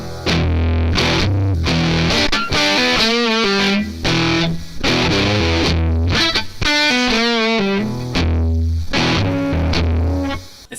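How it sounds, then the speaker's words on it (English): Electric guitar through the Guitar Amp Sim 3 overdrive, chugging heavy, saturated chords and riffs in loud, choppy bursts with brief gaps between phrases, with no voices. "It sounds very heavy for what it is,"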